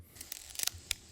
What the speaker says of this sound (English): I did use the sound from the wing clipping